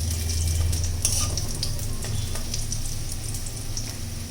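Drumstick flower fritters in a batter of rice flour and gram flour fry close up in hot oil, a continuous dense sizzle with scattered crackles and pops, and no voices.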